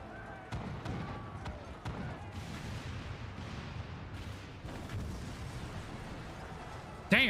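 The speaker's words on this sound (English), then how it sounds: "Damn, that's a lot of cannon fire." Cannon fire during a battle in the video game Final Fantasy XIV, a series of booming blasts and impacts at irregular intervals over a rumbling battle din, ending in a sharp louder burst.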